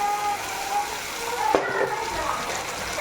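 Ground paste of three tomatoes tipped into a hot frying pan for a paneer and greens gravy, a wet splashing sizzle with a sharp hiss midway, brief and close.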